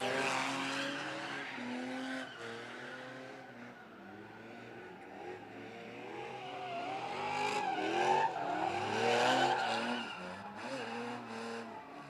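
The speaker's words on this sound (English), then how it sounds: "2 BMWs in the pit." Two BMW cars drift around a dirt drift pit, engines roaring and revving while tires squeal in long, wavering howls, continuous and somewhat distant throughout.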